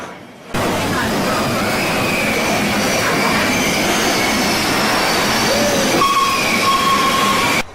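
Big Thunder Mountain Railroad ride train rolling into its first tunnel, its brakes just released; a loud, steady broadband rumble and roar of wheels on track, with thin metallic squeals rising near the end.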